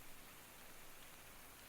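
Steady rain in the tropical island survival game Card Survival, a faint, even hiss of falling drops with no variation or talk.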